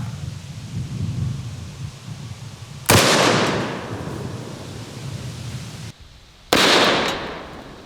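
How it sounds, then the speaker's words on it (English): .308 rifle rounds fired through a ballistic dummy: two loud, sharp cracks a few seconds apart, each followed by a long rumbling decay, over a steady noisy background with no voices. "let's go ahead and try the 308. This is a much bigger bullet, also a very popular rifle round."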